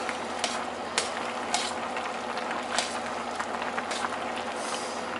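Barilla penne boiling in a pot of water with olive oil added, a steady dense bubbling hiss with scattered small pops and clicks throughout, fairly close and with no talking.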